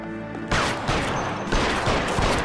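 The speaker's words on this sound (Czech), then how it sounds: "Ten člověk střílí." Gunfire in the 1940s Los Angeles crime game L.A. Noire: after a musical passage, a burst of loud, close shots lands roughly every half second with echoing tails, forming a rapid volley.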